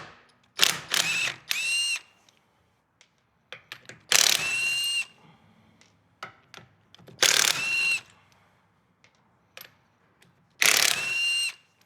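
A power tool spins a 19 mm socket to remove trailer wheel lug nuts: four short, close whirring bursts of roughly a second each, separated by quiet pauses with small clinks. No voices.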